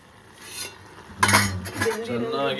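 A spoon clinks and scrapes against a pan while pasta fries, a faint start building to a louder, quick run of metallic stirring.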